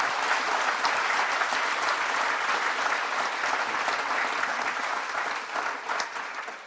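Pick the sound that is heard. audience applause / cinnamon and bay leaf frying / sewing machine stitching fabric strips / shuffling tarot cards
audience applause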